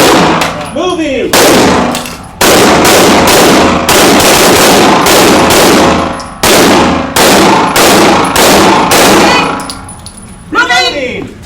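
Rapid handgun fire from a partner shooting drill on a range, with loud, sharp reports in dense repeated bursts and brief pauses between strings, close and dominant throughout.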